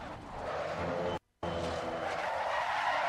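Race car in Assetto Corsa Competizione braking hard with a sustained tire skid and engine roar, loud and continuous apart from a brief cut to silence partway through.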